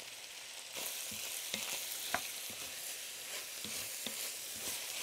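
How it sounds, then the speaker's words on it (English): Mushrooms cooking down in a pan for beef stroganoff soup give a steady, fairly quiet sizzle, with a few sharper crackles and taps rising out of the hiss, close by and with no voices. "now we cook that down until the mushrooms lose most of their moisture"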